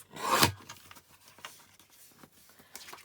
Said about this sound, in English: so let's just cut that in half